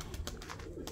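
Pigeons kept in a coop, heard as soft, low cooing under steady background hiss, with a few faint repeated calls close by and no talk.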